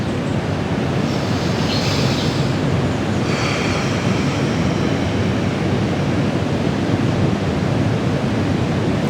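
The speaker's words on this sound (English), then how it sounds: "I'm here on the beach in Panama, so maybe you can hear the waves crashing not too far away here." Ocean waves on a beach in Panama give a steady, continuous broadband roar of surf that holds at an even level throughout, with faint hissy swells near the start and no voices.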